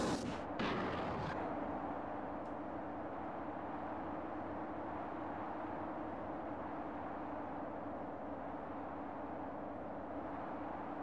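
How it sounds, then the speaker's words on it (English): Gunfire in the video game The Thing: a burst of sharp shots at the start, then a sustained loud rumbling din that continues steadily to the end. "my friend keeps shooting me in the ass"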